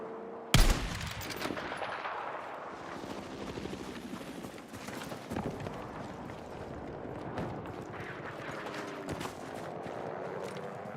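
Rapid gunfire in a video game battle with sniper shots, a sharp crack at the start followed by sustained bursts and scattered shots over steady battle noise, fairly loud throughout.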